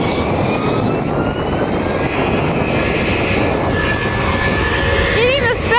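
Airbus A380 jet airliner engines roaring loud and steady nearby at the spotting site, a continuous broadband rumble with whine, with people's voices briefly over it near the end.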